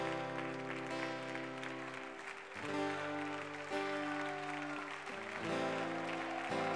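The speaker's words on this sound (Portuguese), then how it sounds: "Aplaude ao Senhor bem forte." Congregation clapping in a church service, a steady wash of applause carried over sustained worship music, loud and continuous throughout.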